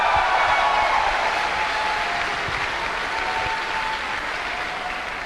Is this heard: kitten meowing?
no